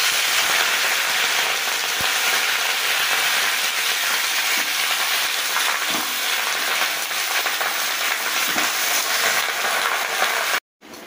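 Bottle gourd greens fry in hot oil in a pot with five-spice seeds and lentil dumplings, a loud, steady, dense sizzle that runs unbroken for about ten seconds, then cuts off abruptly.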